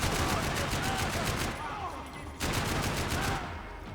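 Rapid bursts of gunfire from a gun in the Max Payne 3 video game ring out loud and close, a sustained volley that breaks off briefly then resumes, over a dense game soundscape.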